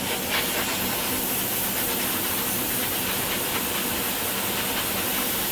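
Airbrush spraying paint for scale models, a steady close hiss of air and atomised paint that continues unbroken, with no speech.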